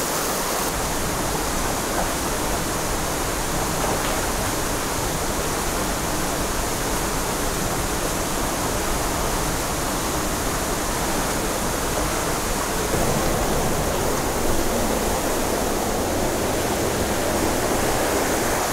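A waterfall, the third falls along a trail, roars in a steady, loud, broadband rush that stays continuous and dense throughout, with no voices over it.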